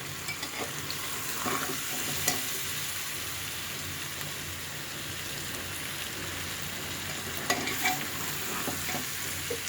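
Chicken and spices fry in a pan over medium-low heat, giving off a steady close sizzle with occasional louder scrapes and stirring knocks.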